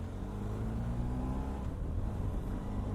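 Steady engine drone of a 2020 Benelli TRK 502X adventure motorcycle being ridden, a continuous low hum with wind rush and no clear revving, heard alone throughout.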